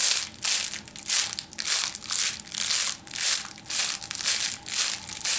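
A Lively Legz Flip Out grunt enhancer imitates a deer thrashing through brush. It gives about seven loud, rhythmic bursts of crunching, crackling rustle in steady succession, close by.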